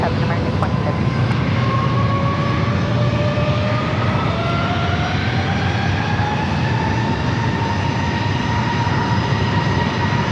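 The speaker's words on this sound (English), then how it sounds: "Those are the engine sounds we like to hear." Aircraft engines at San Diego airport roar steadily and loudly for the whole stretch, with rising turbine whine tones sweeping upward as a plane spools up or passes close by.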